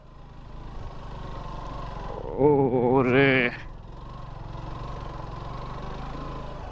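A motorbike carrying a pillion labours up a dusty hill road in Mirinja Valley, engine droning steadily throughout while a voice cries out briefly in the middle.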